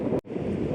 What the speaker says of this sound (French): Il y a grave du vent